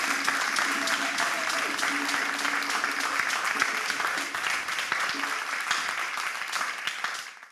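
Steady, enthusiastic audience applause for the Eden choir of Antenne ville during a broadcast, a dense wash of many hands clapping throughout, with faint voices mixed in before it fades at the very end.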